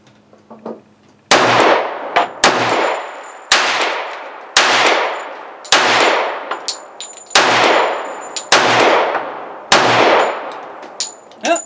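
Sig Sauer P220 in .45 ACP firing eight rounds from a Pro Mag magazine: loud, close, ringing shots at a steady unhurried pace, each followed by a decaying echo and the light clink of brass.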